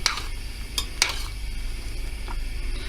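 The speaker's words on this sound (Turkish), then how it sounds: "Şöyle bir karıştıralım" A spoon stirs black-eyed peas simmering in a pot, with a few sharp scrapes and clinks against the metal over a steady low bubbling hiss, close and fairly quiet, with no talking.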